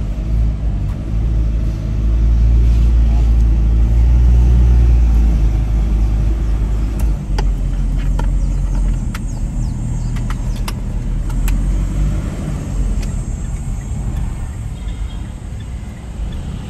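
A car circles around a petrol station lot during a brake check for squeaking, its loud engine and road rumble steady with brief surges and faint high squeaks or clicks scattered through, no talking.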